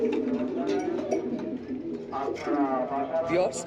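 Racing pigeons of a foreign bloodline coo repeatedly in a loft, their low throaty calls close by and steady, with people talking over them.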